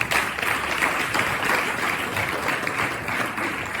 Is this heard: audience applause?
yes